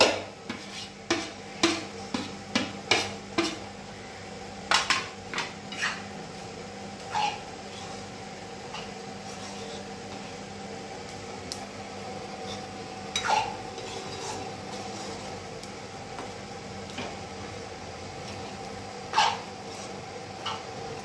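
A spoon stirs onion paratha filling with chutney, chaat masala, turmeric and oil in a bowl, giving a run of quick clinking scrapes early on, then sparse, isolated clinks against a quiet kitchen background.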